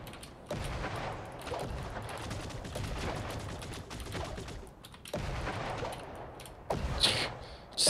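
Shotgun blasts go off in a video game amid surrounding gunfire, with a few sharp shots rising out of a dense, fairly quiet clatter of game battle noise.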